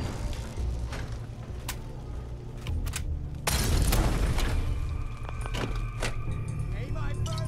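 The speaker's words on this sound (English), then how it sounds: "Where'd that grenade come from?" A grenade bursts in the Fallout 4 game world: a sudden, loud, broadband explosion partway through, following softer gunfire-like pops and set over a continuous game soundscape, with a voice talking throughout.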